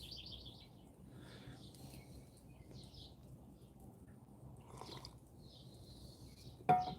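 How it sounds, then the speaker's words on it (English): Early-morning birds around a firepit outdoors, scattered chirps and short trilling calls at a moderate distance over quiet ambience, ending with a sudden sharp clatter nearby. "listen to the birds"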